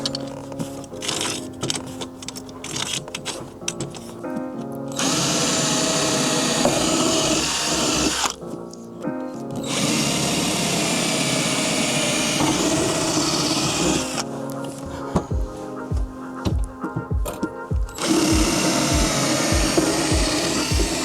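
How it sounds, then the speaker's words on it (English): A power drill whines loudly in long bursts, boring holes into a teak boat deck, separated by brief pauses with scraping and knocking in between. "I finish up drilling out the holes for the Traveller"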